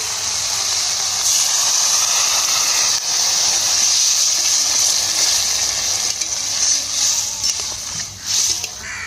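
Water poured into a pan of sautéed dried fish sets off a loud, sustained steamy hiss that holds for several seconds before easing and fluttering toward the end.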